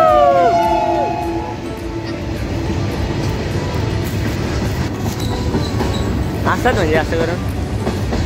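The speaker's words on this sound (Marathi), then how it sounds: "एव्हा ट्रेन चालले" A train rolls along rails at a rural waterfall trekking spot, a steady rumbling rattle with clickety-clack and a brief high wheel squeal early on, while people talk nearby throughout.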